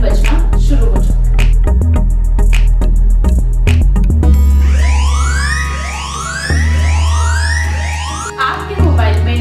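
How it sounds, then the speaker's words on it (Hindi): Siren alarm from the DSR e-Angel security app on a mobile phone, loud, repeated rising electronic sweeps that start partway through after a run of clicks and tones, with a voice talking beneath. "आपके मोबाइल पे सायरन बजना शुरू हो जाएगा।"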